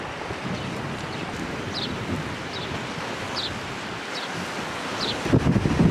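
Strong wind gusts across a coastal headland between Birchington-on-Sea and Margate on the Kent coast, a steady broadband roar with faint surf underneath and a few brief chirps, growing louder and rougher near the end.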